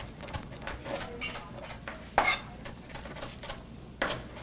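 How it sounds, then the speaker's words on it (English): Fresh cilantro being diced with a knife on a cutting board: quick, irregular chopping taps close up, with a few sharper louder strikes, and no talking. "I'm just gonna start chopping it up and I can smell it as I'm chopping."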